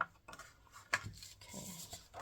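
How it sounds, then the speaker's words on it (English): Paper being folded into a concertina and creased with a bone folder: quiet, soft scraping and rubbing strokes with a few brief crisp creases, close by and without voices. "Let's get my bone folder. And then flip it over and fold it like this so that we make like a concertina type thing."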